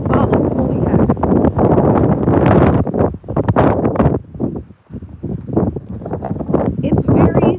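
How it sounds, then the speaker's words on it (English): Strong gusting wind buffets the microphone outdoors near horses, with loud, uneven rumbling bursts rising and falling, while a person talks intermittently. "It's very, very windy."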